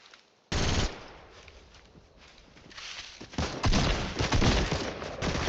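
Video game gunfire in Fortnite: a sudden loud burst of shots opens the clip, then rapid volleys and scattered single reports build to dense, close automatic fire toward the end.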